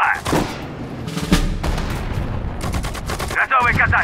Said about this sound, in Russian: Стреляем из орудия!